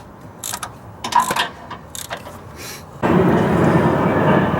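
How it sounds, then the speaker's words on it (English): A worn ratchet works on tight exhaust manifold bolts of a Cummins 4BT/6BT diesel engine, giving a few clustered clicking bursts, then a steadier, louder grinding mechanical run near the mic, with no talk. "They might be pretty tight, so get some leverage on it. I think it's almost time for a new ratchet here."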